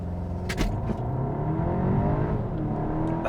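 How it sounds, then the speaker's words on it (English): A 2022 Volkswagen Arteon Shooting Brake accelerates hard around a corner, its engine note rising steadily in a close, continuous interior drone with a few brief clicks early on. "So let's give this thing some sauce around Saucy Corner."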